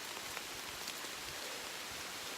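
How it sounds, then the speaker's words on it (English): Steady rain falls in a dense, even hiss on the Appalachian Trail, with faint scattered drops pattering nearby; no voices. "and the sky just went from sunny to raining in a matter of minutes."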